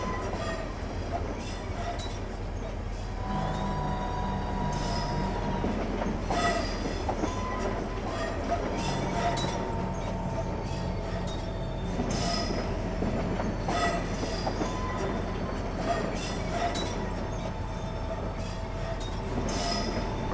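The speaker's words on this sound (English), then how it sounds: "I'm now going to let the train coast" A train coasting on rails down a steep gradient toward London St Pancras in Train Simulator 2015, a steady loud rumble of wheels and carriages with faint squeals and clicks, continuous throughout without talk.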